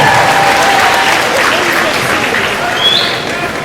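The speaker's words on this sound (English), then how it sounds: "Graduates, give them a round of applause." Dense, sustained applause from a large crowd of graduates at a university commencement ceremony, loud and continuous, with a faint voice mixed underneath.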